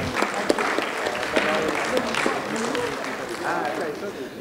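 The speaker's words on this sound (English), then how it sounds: "Another round of applause for our speakers, please." Audience at a public forum session applauds the speakers, clapping steadily at mid distance while voices carry over and through it.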